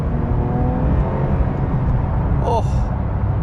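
A 2026 Porsche 911 GT3 Touring engine holds a steady, loud revving roar with a rising tone early on, heard up close and continuous for the whole stretch.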